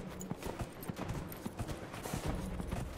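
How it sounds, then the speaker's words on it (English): Horse galloping in Dragon Age: Inquisition, a steady stream of clip-clop hoofbeats with a quick rhythm, moderately close and fairly quiet, with no talk over it. "I have more important things to do right now, like racing this horse"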